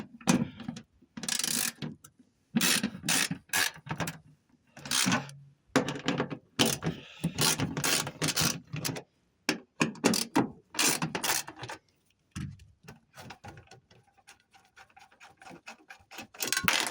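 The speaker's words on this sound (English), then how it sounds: "take that 12 millimeter, so 12 millimeter socket, ratchet, and remove these 3 bolts" A 12 mm socket ratchet removes bolts on a 1996-2001 Daihatsu Midget II, giving close, rapid clicking pawl bursts in repeated spells separated by pauses, with quieter handling noise near the end.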